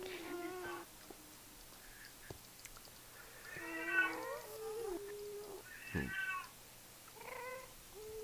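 A cat meows several times in short, wavering cries, fairly close, against a quiet room hum.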